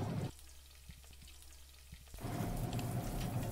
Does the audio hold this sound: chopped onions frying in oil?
yes